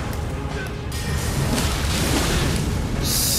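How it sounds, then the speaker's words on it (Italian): Spell orbs exploding in the Elden Ring DLC video game, a dense loud booming roar of blasts and crashes filling the whole stretch with a bright burst near the end. "io da lontano lancio sfere di roba che esplodono"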